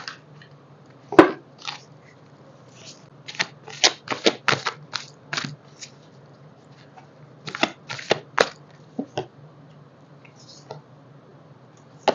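A deck of tarot cards is shuffled up close in a quiet room, with bursts of crisp papery flicks and slaps grouped into quick runs separated by short pauses, and no voices.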